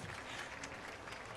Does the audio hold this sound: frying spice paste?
no